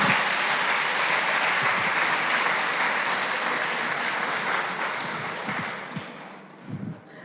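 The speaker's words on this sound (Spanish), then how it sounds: "Dale un fuerte aplauso al Señor" A church congregation applauding the Lord during a sermon on salvation and grace, sustained broad clapping that fades slightly toward the end, with a few low thumps.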